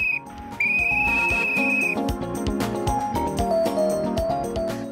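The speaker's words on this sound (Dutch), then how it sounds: "als ze moeten stoppen, de ploeg, dan fluit ik 2 keer op een fluitje." A handheld whistle is blown twice to signal a work crew to stop: a brief chirp, then a longer steady shrill blast, over a busy background of other tonal and rhythmic sounds.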